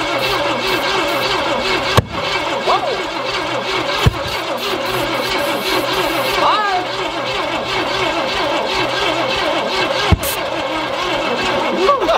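A Cadillac 500 V8 that sat for decades catches and keeps running with a rough, loud idle. Occasional sharp knocks and pops break through, and voices talk over the engine.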